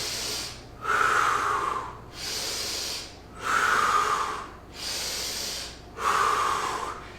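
Heavy rhythmic breathing during an at-home leg and back workout exercise, with three loud, hissing breaths alternating with softer ones in a steady cycle, close up and with no talk over them.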